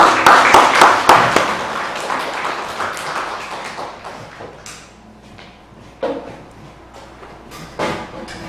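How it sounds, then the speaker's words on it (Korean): A church congregation claps again, a burst of sharp hand claps that is loudest at the start, then thins out and fades into scattered, faint claps and room noise. "다시 박수."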